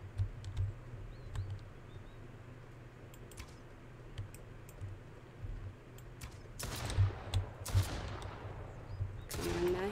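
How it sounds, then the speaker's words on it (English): Enemy gunfire in the survival game Mist Survival rattles in quick bursts of shots, faint and distant at first, then louder clustered volleys toward the end, mixed with keyboard clicks and low game ambience. "Oh, he's shooting the wrong way anyway."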